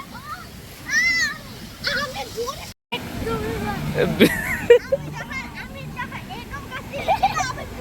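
Children splash and dive in a swimming pool, with scattered watery splashes mixed among lively kids' voices and chatter, fairly close and busy throughout.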